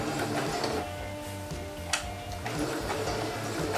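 Sewing machine running a normal straight stitch on a fabric scrunchie, a steady rhythmic motor hum and needle patter that pulses in short bursts, close and continuous with no talk.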